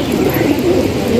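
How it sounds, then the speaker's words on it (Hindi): Soft, throaty pigeon cooing up close, a steady low murmuring that continues without pause. "नए कबूतरों को खोला हुआ है,"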